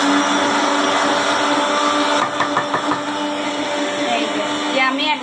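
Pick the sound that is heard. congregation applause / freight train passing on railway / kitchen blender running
kitchen blender running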